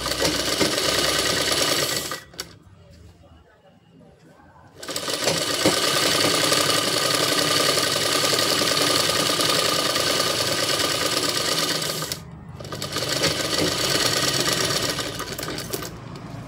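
Sewing machine stitching a blouse, a loud steady mechanical whir running in long bursts with two short pauses between runs, close up and without speech.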